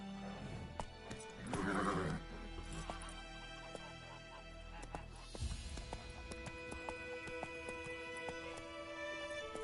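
Roach the horse in The Witcher 3, a loud whinny early on followed by rhythmic hoofbeats and gear rattle, close by.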